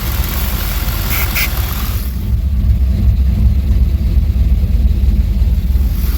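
A 1992 Chevy 350 TBI engine idling close by, loud and steady with a rough low rumble, its sound shifting partway through as the idle drops.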